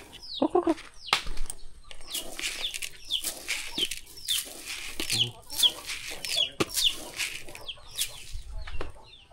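A rooster clucks repeatedly in short, close bursts, with a few sharper calls scattered through; no talking.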